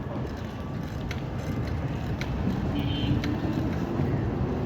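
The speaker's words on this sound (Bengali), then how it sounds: "আর আমি সাইকেল চালাচ্ছি" Bicycle riding along a city road toward a flyover in Rajshahi, with steady low rumble of tyres and wind, passing traffic mixed in, continuous and fairly close throughout.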